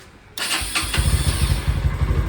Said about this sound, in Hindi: अब सबसे पहले बाइक को स्टार्ट करेंगे।